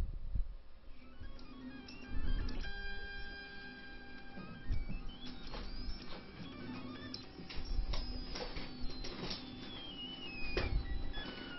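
3D printer lays down very thin layers of flexible material, with stepper motors whirring in tonal bursts and small clicks and shifting pitches, quiet and continuous.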